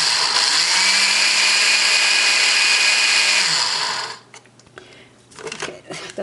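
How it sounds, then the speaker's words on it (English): A mini blender grinds quick oats in a loud, steady high-pitched whir for about four seconds, then stops, followed by quiet clatter and handling noise. "now I'm going to go grind"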